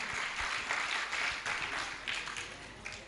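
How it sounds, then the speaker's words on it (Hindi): Audience clapping at a Jain religious discourse, a steady dense patter of many hands filling the space for a few seconds, moderately loud with no voice over it. "तालियां बजाओ एक बार।"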